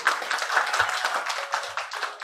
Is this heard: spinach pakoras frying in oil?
no